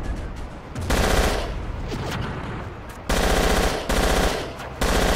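Automatic gunfire in the Battlefield video game, set in a Yugoslav conflict, with loud sustained bursts of rapid shots broken by short pauses, close and dominant.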